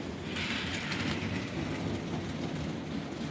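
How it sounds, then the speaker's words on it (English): A small model train rolls along its track on wheels set to line up, giving a steady close rattle and rumble with faint rhythmic clicking throughout. "I'll put the two of them onto a train and we'll see how they run around the track"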